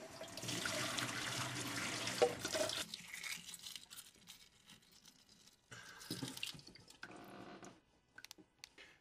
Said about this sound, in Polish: Hartujemy zimną wodą.